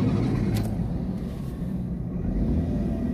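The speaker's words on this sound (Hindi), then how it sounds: "ये देख लें, गाड़ी इजीली स्टार्ट हो गई" A Changan Karvaan petrol car engine runs as a low, steady rumble that holds even and close throughout, with no other sounds over it.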